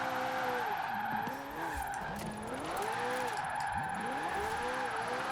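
A McLaren 600LT drifts in Forza Horizon 4, its mid-mounted engine droning loudly while tires squeal in long sweeping skids that rise and fall continuously throughout.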